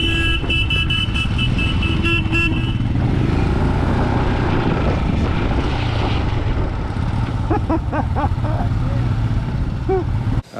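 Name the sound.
vehicle horns honking in Himalayan traffic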